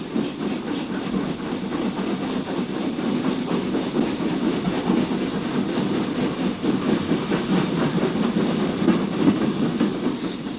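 Pines Express steam train running on the Somerset and Dorset line, a steady rolling rumble with faint rhythmic clatter of wheels and a soft hiss, continuous and fairly close throughout.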